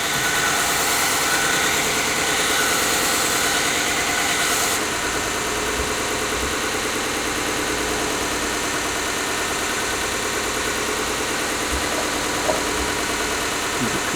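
A power sander with 150-grit paper runs at slow speed over a hand-forged marking knife, a loud continuous motor drone with a slight shift in tone partway through.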